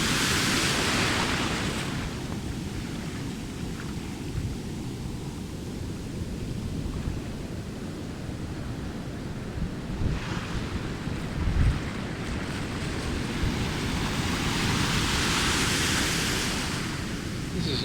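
Pacific Ocean waves crash onto rocks in a continuous roaring wash of surf, with louder surges swelling near the start, middle and end, mixed with wind buffeting the microphone.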